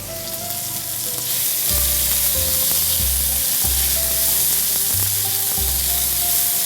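Tomatoes fry in hot oil with a loud, steady, close sizzle and crackle, while a spatula stirs in regular rhythmic scrapes and knocks against the pan.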